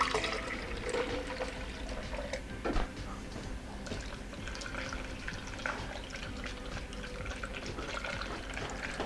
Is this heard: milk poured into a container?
yes